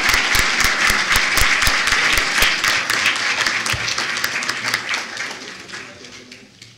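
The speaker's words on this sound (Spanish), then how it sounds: "les pido un fuerte aplauso para dar la bienvenida a todos los expositores y a todos los asistentes." Applause rises from an audience welcoming speakers at the opening of a seminar, steady and full at first, then thinning and fading out over the final seconds.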